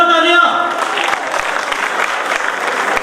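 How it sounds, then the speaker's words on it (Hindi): Audience at a Dr. Ambedkar Jayanti celebration breaks into loud, dense applause right after a tonal announcement ends, sustained clapping filling the rest of the moment close and steady. "इन दो नन्हे सिपाहियों के लिए जोरदार तालियां"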